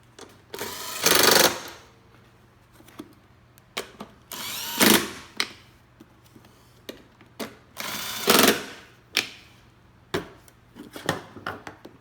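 Power tool tightening bolts on a Honda EU7000i generator: three whirring bursts of about a second each, separated by sharp metallic clicks and taps, loud and close with no speech.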